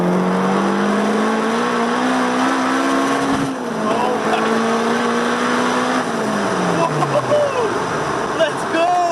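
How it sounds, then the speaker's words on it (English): A turbocharged Honda S2000 accelerates hard from about 40 mph, its engine note climbing through the gears with brief dips at the shifts, loud and close from inside the car, while people talk over it. "the exhaust pop in the back sounded crazy"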